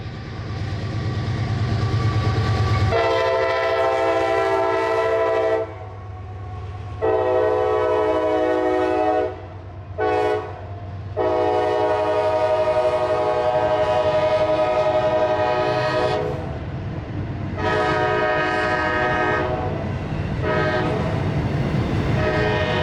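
Northbound freight train of over 10,000 feet led by two GE locomotives rolls past at close range with loud horn blasts, a steady rumble and clattering wheels over the rails.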